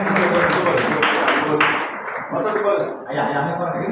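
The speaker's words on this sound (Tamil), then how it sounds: "எல்லாம் கரங்களை தட்டுங்க." Church congregation clapping hands together at a bishops' synod gathering, a dense, continuous patter of many hands filling the room, with a voice speaking over the clapping throughout.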